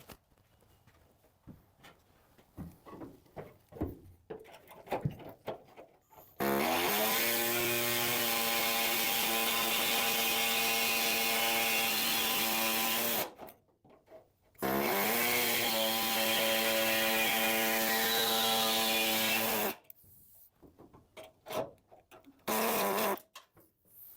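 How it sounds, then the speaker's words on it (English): A power drill boring holes in a car windscreen demister plenum whines loudly in two long, steady bursts, with quieter tool handling and clicks before, between and after. "So I'm going to drill some holes, and then once I've got the holes, then I can join them all up."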